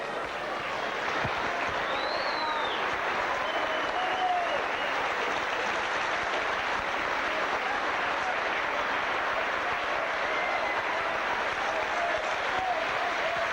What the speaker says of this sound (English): Tremendous round of applause for Paul Groves.